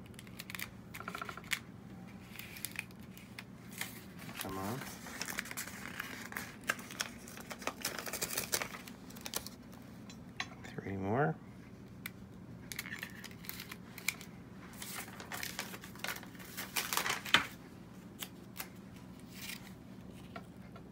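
Sublingual rapid dissolve tablets being peeled from their packaging, heard as faint, close crinkling and small clicks and taps, with a couple of longer tearing rips.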